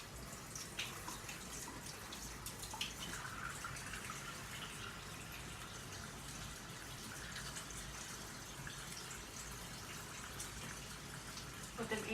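Tap water runs steadily from a faucet for a pre-surgical hand wash with antibacterial soap, a continuous moderate splashing wash that holds evenly throughout.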